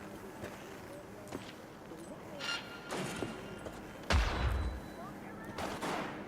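Gunfire in Cyberpunk 2077 pops out in scattered shots and short bursts, one heavy close blast standing out, all fairly faint under voices and ambient combat noise.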